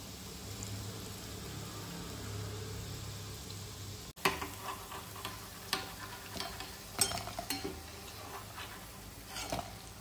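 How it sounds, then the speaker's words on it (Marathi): Besan bhaji frying in hot oil make a soft steady sizzle, broken midway by a sudden drop, then crackles and scattered small clinks and taps from handling close by. "आणखी तेलात एक आपण भज्याचा घाणा काढून घ्यायचा आहे।"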